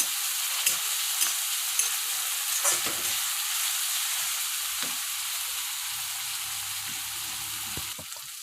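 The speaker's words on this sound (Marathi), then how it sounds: "आता यात अद्रक लसूण कोथिंबीरची पेस्ट टाका आणि ते व्यवस्थित मिक्स करून घ्या" Ginger, garlic and coriander paste is stirred into chicken masala frying in a pan, giving a steady close sizzle with scattered scraping knocks of the spoon against the vessel, and no one talking.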